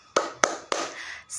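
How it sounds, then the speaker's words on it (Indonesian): A few sharp hand claps in a quick rhythmic pattern, close and distinct, three strong claps followed by a softer one, with no talking, from a class clap routine in an online primary lesson. "mari kita tepuk tangan semangat dulu ya"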